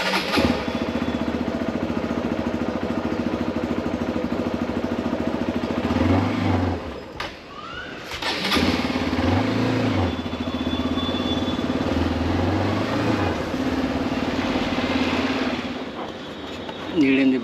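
A motorcycle fitted with a top box rides through Varanasi streets, its engine humming steadily and close throughout, dipping briefly midway before picking back up, with a continuous rumble and road noise.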